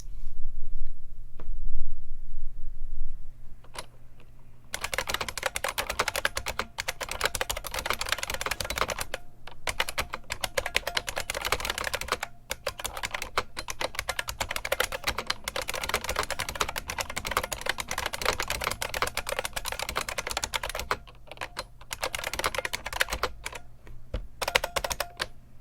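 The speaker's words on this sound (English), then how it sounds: "That's what the old school buckling spring sounds like" Old-school IBM Model M buckling spring keyboard mashed by hand close to the mic, a dense, loud clatter of clicky keystrokes in bursts with short pauses, no talking.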